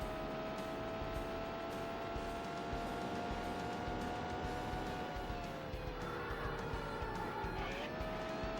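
A racing car engine from Road & Track Presents The Need for Speed on the Sega Saturn holds a steady high whine, with the pitch sliding down briefly and a short tire squeal near the end, faint and continuous.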